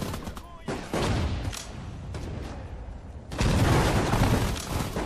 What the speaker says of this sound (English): Anti-tank grenade coming.